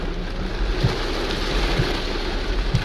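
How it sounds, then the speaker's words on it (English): Heavy thunderstorm rain pours into a vehicle during extreme weather and flooding in Chicago, Illinois, a steady loud wash of splashing water and wind noise with low rumbling thumps, no talking. "I got rain coming in through here, splashing on me."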